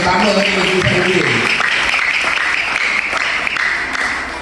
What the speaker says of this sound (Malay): Beri tepukan yang lebih kuat sikit